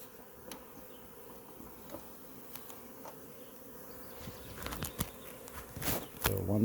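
A honey bee swarm clustered on a branch gives a low, steady hum throughout, with rustling and a few sharp knocks building toward the end.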